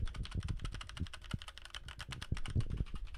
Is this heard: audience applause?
no